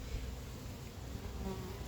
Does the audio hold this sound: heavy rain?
no